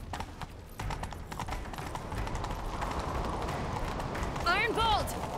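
A horse gallops in The Witcher 3 video game, steady rapid hoofbeats running throughout at close range, with a brief whinny near the end and voices heard faintly.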